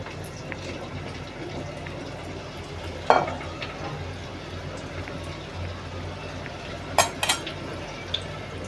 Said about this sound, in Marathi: हे पहा आपला लसूण पण मस्त फ्राय झाला आहे